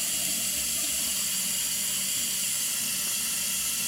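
Water running from a tap over a cut finger, a steady faint hissing stream with no breaks, heard alone and without speech.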